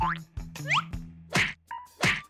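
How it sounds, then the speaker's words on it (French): Cartoon sound effects for a baby kicking inside a pregnant belly: a quick run of bouncy boings and thwacks, several distinct hits with rising pitch sweeps, loud and alone. "C'est le bébé qui donne des coups,"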